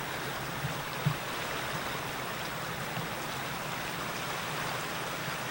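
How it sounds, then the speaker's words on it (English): Iron Spring Creek runs steadily through the Black Sand Basin in Yellowstone, a continuous broadband rush of flowing water with a faint tap or two, heard alone with no voices. "The creek flowing through the Black Sand Basin is called Iron Spring Creek."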